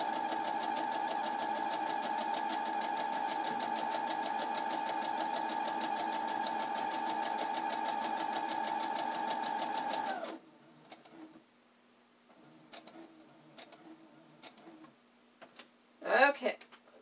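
Sewing machine stitching Velcro onto felt, a steady close mechanical whir with rapid needle ticking that runs for about ten seconds and then stops, followed by faint handling noises.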